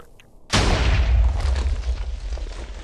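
A TNT cannon blast in a blocky building video game: one sudden loud boom that rolls on into a long rumbling, crackling tail, heard alone after a quiet moment.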